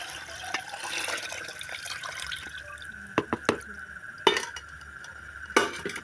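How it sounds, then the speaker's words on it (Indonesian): A spoon stirring coconut milk mixture for es puter in a bowl, soft swishing and liquid sloshing punctuated by a few sharp clinks against the bowl, close and fairly quiet, no talking. "Kita aduk-aduk ya."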